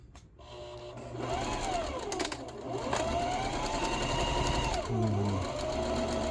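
A sewing machine stitching a fabric cover with a double stitch runs fast and steady after a brief start, its rapid mechanical whir loud and close and slowing slightly near the end.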